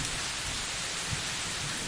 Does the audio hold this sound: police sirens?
no